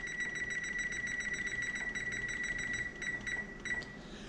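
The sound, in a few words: kitchen timer beeping while setting it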